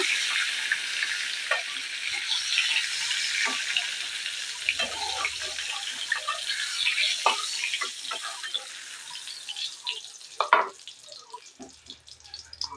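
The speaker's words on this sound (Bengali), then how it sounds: "পটলগুলোকে কিন্তু আমি নেড়ে চেড়ে ভালো করে লাল লাল করে ভেজে নিয়েছি" Pointed gourd pieces fry in hot oil while being stirred, a close crackling sizzle broken by spatula scrapes and knocks, with a few louder clatters near the end.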